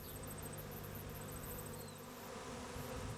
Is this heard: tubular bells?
no